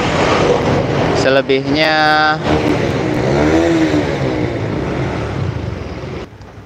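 Honda Vario scooter engine revving, a loud close roar that rises and falls in pitch through a few revs, then settles and fades at the end, with someone talking over it.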